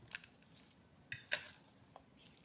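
A spoon clinks softly against a bowl while tropical fruit salad with watermelon and condensed milk is mixed, a few faint scattered taps and scrapes in a quiet room.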